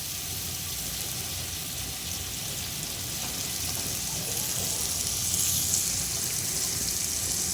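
Cooking oil poured into a pan while making coconut rice makes a steady, even hiss that holds for several seconds at close range, with no voices.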